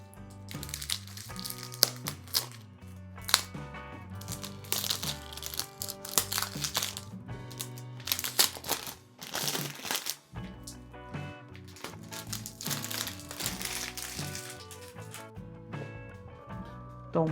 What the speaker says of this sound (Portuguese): Então bora lá abrir essa caixa. Tem um estilete.